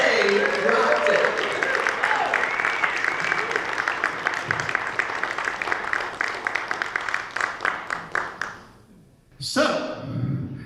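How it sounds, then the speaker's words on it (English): An audience applauds a band after a concert, a full burst of clapping that thins into scattered individual claps and fades out, followed by a speaking voice. "give it up for the band, because they rocked it"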